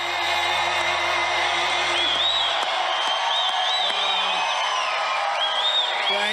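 A large crowd cheers at a Trump speech, with thousands of people massed outside. The sound is a dense, steady roar with shrill whistles and whoops rising over it, continuous and loud throughout.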